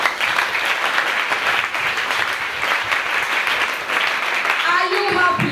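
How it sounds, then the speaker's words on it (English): A crowd breaks into sustained applause, dense clapping filling several seconds before a voice begins speaking near the end. "A resounding round of applause."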